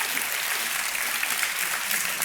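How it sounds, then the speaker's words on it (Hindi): A studio audience at a televised quiz show gives dense, sustained applause. The clapping is steady and loud throughout, with no talk over it. "और तालियों के साथ हम उनका अभिनंदन करते हैं।"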